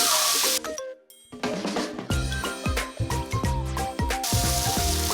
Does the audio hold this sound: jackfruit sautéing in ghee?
yes